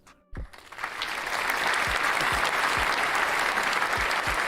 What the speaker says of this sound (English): Give him a round of applause, that clown.